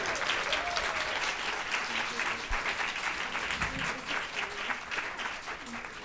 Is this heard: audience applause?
yes